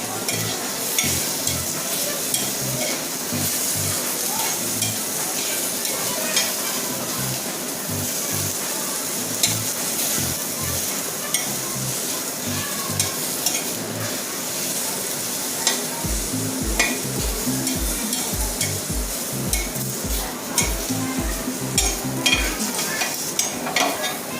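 Constant loud sizzling as onion and tomato fry in tempering oil in a pan, with frequent stirring and scraping, and a rhythmic low thumping toward the end.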